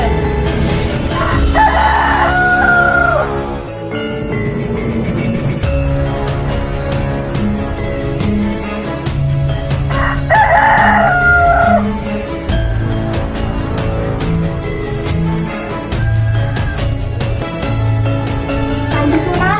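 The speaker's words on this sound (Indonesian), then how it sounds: "Bangunlah wahai M jantan, berkokoklah, buatlah dunia mengira fajar telah tiba." A rooster crows loudly twice, about eight seconds apart, over a busy backdrop of music and percussion in a short drama.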